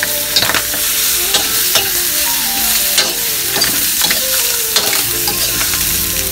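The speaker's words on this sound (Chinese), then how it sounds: "接下来倒入我们的肉。 也是稍微煸炒一下。" Pork for braised pork belly stir-fried in a hot wok, with loud continuous sizzling and repeated scraping strokes of the spatula at an irregular rhythm, close and alone.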